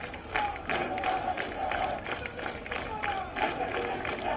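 Crowd of striking AIIMS nurses clapping and chanting protest slogans, a dense, loud mass of voices with steady rhythmic shouts throughout.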